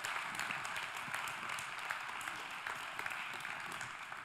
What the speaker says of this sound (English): Come on, help me clap that in.